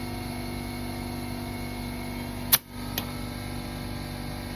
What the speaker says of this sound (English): we're going to try and drive this tractor today, and I'll let it run for a little while